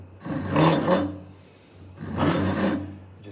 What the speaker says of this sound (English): Now I can kind of start doing my whole back and forth with the saw.